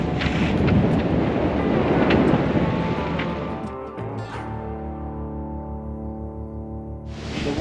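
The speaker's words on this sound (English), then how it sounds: "The weather unfortunately is turning quite windy at the moment." Strong wind roaring at sea aboard a Pogo 30 sailboat in the Bahamas near Bimini as a storm approaches, loud broadband gusting buffeting the microphone, easing somewhat after a few seconds.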